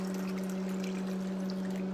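Liquid pours steadily for a couple of seconds while making a Fireball pineapple drink with cinnamon sugar, a close, continuous splashing stream over a faint low hum.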